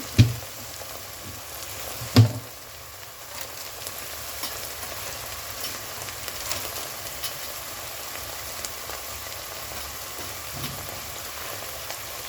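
Spices such as turmeric, chilli powder and Kashmiri red chilli powder sautéing with paste in a pan for a Punjabi-style butter bean usal, a soft continuous sizzle with a couple of sharp knocks near the start.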